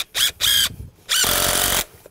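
Power drill driving screws into wooden shed framing: two short bursts of whirring close by, then one longer sustained run as a screw is driven home, with quiet pauses between.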